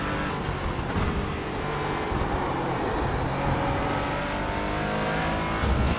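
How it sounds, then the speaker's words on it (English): Porsche GT4 race car engine in the iRacing sim at Summit Point or Laguna Seca, a continuous moderate drone with rising and falling revs as the car laps, steady throughout with no talk. "It's not the loudest engine."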